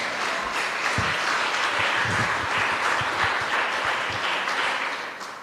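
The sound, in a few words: applause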